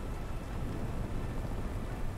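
Steady rain in the video game Phantom Brigade, a constant dense hiss with low rumbling underneath, even and unbroken throughout with no voices.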